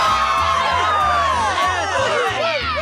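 A cartoon crowd cheers and whoops loudly and continuously, a dense wash of excited voices with children's shouts mixed in, close and full throughout.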